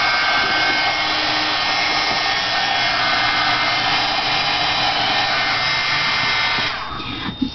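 A hair dryer blows steadily at close range over painted craft pieces, a loud even whir that cuts off near the end with a couple of small knocks.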